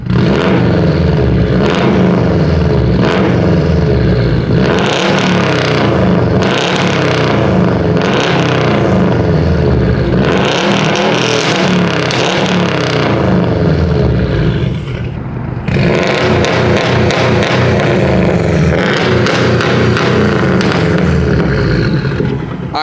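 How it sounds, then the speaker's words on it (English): Straight-piped Subaru STI with a Cobb tune revving hard, loud and close, with a raspy, crackling exhaust that rises and falls through repeated throttle blips and sustained high revs and briefly dips near the middle. "He does have a Cobb tune on it right now, so we're just gonna give it some revs"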